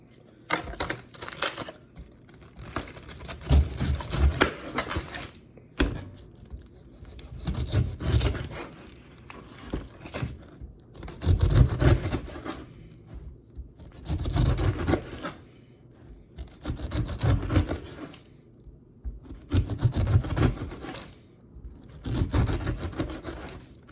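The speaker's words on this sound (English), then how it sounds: "about to cut all this stuff up" A knife chops cucumber, celery and apples on a cutting board before juicing, in repeated bursts of close, rapid knocking and slicing separated by short pauses.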